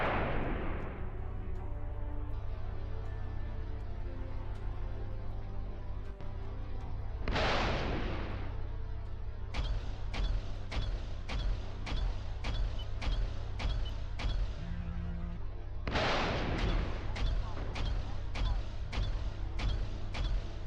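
Spaceship cannons fire in the retro sci-fi space and aerial combat game Frontier's Reach: a few heavy booming blasts, then rapid, evenly spaced volleys of shots over a constant engine drone.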